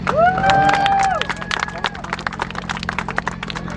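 Audience applause at a feat-of-strength event, with a whistle and cheering voices at the start, then brisk, dense clapping from a nearby crowd that continues steadily.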